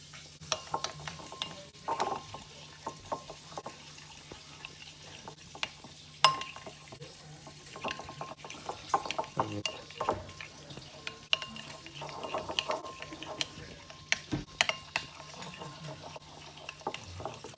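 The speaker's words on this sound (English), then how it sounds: "While I mix this in a frying pan" A mixture is stirred in a frying pan, with irregular scraping clicks and taps over a soft, steady sizzle, close by.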